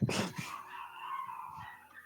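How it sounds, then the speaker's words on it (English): Dogs whimper and yip close by, a sharp high cry followed by a long, drawn-out whine that fades, with no voices over it. "God, those dogs."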